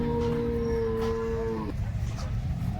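A cow at the Loni cattle market gives one clear, drawn-out moo that stops after under two seconds, followed by a constant low market din.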